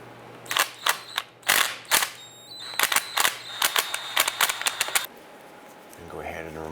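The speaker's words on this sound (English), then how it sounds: "Using a number 6 Allen head, we're going to go ahead and remove these bolts around the front of the drive shaft." A number 6 Allen head removes drive shaft bolts on a 2002-2007 Jeep Liberty, making a run of sharp metallic clicks and ratcheting taps in close succession, followed by a quieter pause with faint background noise.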